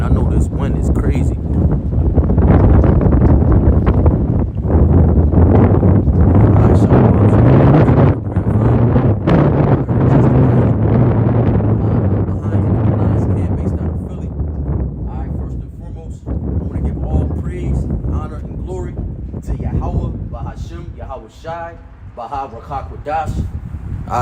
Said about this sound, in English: I know this wind is crazy.